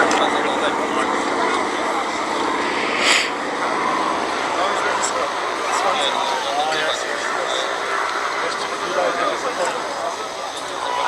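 A WWII Allied paratroop transport aircraft with D-Day invasion stripes flying past at the Duxford VE Day air show, its engine drone broad and steady at moderate distance beneath continuous commentary.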